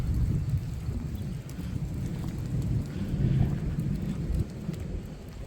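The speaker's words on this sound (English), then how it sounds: "Ooh, there's a lot of thunder coming." A thunderstorm builds in West Texas. Deep thunder rumbles continuously over a steady wash of rain and wind, loud and enveloping, with no voices.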